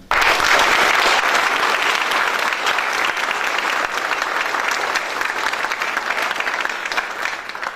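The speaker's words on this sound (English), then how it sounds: "I'll ask for a nice round of applause" A crowd at a county sheriff's debate in Fond du Lac County claps loudly and steadily as two candidates are introduced, a dense wash of applause lasting nearly eight seconds and easing off only slightly near the end.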